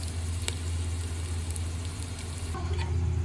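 Large-cut chopped onions frying in a pot for beef yakhni pulao: a steady, close sizzle with a faint crackle and a low hum beneath, continuing without a break.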